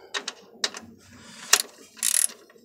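A socket ratchet removes nuts from a fuse cable, with a few separate close clicks followed by a quick rattling burst of ratchet clicks.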